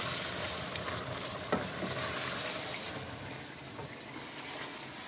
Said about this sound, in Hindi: अच्छे तरीके नाल भुन लेते हैं